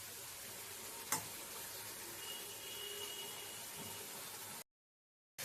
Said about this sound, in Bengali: মশলাটা দিয়ে ভালো করে আমি কষিয়ে নেবো